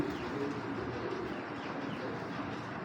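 A large male Pakistani Kamagar pigeon coos faintly in a low, continuous murmur. The cooing sits under a soft, even background and no one speaks.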